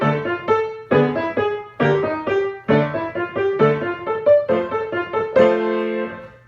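In the Hall of the Mountain King played quickly on a single melodic instrument, short detached notes in a brisk, steady rhythm, close and clear with no voices.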